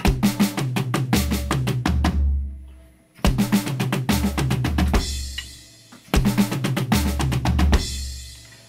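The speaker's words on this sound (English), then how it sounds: "Learn to pass double strokes between two drums." Fast drum fill of double strokes passed between two drums, played three times in quick bursts of rapid hits, each run ending in a ringing low crash, loud and close.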